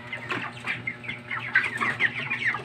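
A flock of 45-day-old farm-raised chickens clucks and squawks continuously, several birds overlapping at moderate loudness with busy chatter throughout.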